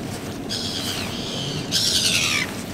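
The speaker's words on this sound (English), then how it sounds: "there's some angry gulls" Angry gulls near a fishing boat give loud, harsh calls in two bursts, the second louder and shriller, over steady wind and water noise.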